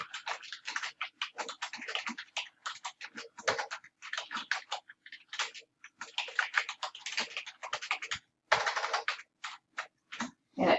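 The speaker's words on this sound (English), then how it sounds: "You will type your question." Rapid, uneven keystrokes on a computer keyboard as a quiz question is typed, close and clear with brief pauses between bursts and no talk.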